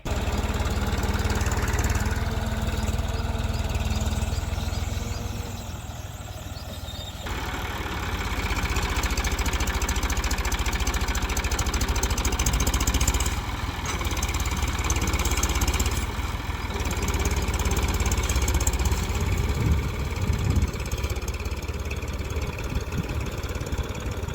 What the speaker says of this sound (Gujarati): અત્યારે પાછો હમાર ચાલુ કર્યો હોય ટ્રેક્ટરથી